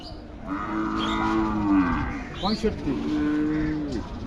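A heifer at the Rajshahi city cattle market lows twice, two long drawn-out moos close by with a brief pause between them, over a murmur of market noise.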